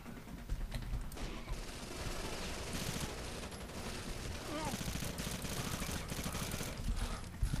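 Sniper gunfire in Rainbow Six: Vegas 2 cracks out amid a busy firefight, sharp reports stacked with rapid bursts and clattering mechanical noise, loud throughout.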